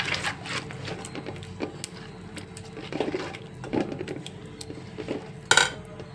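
A spoon stirs garlic pickle ingredients, mustard, cumin and fenugreek powder, in a bowl, with soft scraping and scattered light clinks of metal on the dish, ending in a sharper clank.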